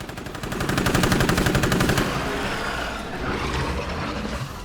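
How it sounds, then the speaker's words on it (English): Rapid automatic gunfire in State of Decay 2, a dense run of loud, evenly spaced shots for about two seconds before easing into a rougher, lower clatter and rumble. "That was a lot of gunfire for one cycle."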